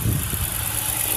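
A 2010 Ford Explorer Sport Trac Limited 4x4 idles with a steady, close, even hum and light vibration, unbroken and with no one talking.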